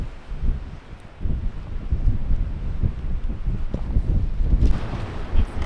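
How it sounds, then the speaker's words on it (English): Strong gusting wind buffets the microphone at a desert campsite, a continuous low roar with rising gusts and no speech. "It's very, very windy."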